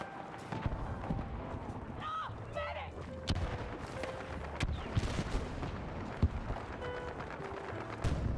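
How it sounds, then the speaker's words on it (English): Sniper rifle firing in a video game, a few sharp reports spread through the clip over game noise and mechanical clatter, with someone talking over it. "Sniper rifle."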